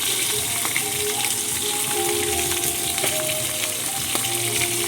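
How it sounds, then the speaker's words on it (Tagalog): Fish frying in a pan of hot oil, a continuous close crackle and sizzle with small pops and occasional scraping taps, steady level and no voices. "Ayan, nag-fry din tayo ng isda."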